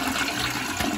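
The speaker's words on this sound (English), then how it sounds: "let's flush that." A toilet with an 18-year-old tank flushes loudly, a steady rushing gush of water filling the whole moment with a brief surge near the end.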